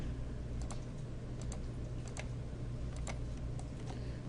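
Computer mouse buttons clicked while building polygons in 3D modelling software: a series of light, crisp clicks at uneven intervals over a steady low background hum, with no speech.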